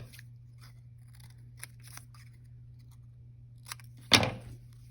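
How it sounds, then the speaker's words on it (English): Scissors cutting small squares from strips of yellow paper, a few faint quiet snips scattered through near silence, then one sharp, louder crunching cut near the end, close up. "By cutting small squares from the yellow strips, I can quickly go along and put the windows onto my house."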